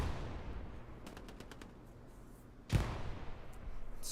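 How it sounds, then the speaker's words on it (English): Machine gun fire in the World War II shooter Hell Let Loose, heard as a distant rattling burst of shots, followed by a single louder nearby crack, with steady battle ambience throughout and no voices. "Scooby with the MG"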